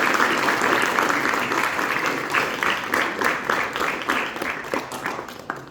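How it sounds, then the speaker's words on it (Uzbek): Audience applause at a student ensemble concert of traditional instruments at an arts school in Samarkand, a steady wash of clapping that thins into scattered, distinct claps toward the end. "Guldiroz qarsaklaringiz"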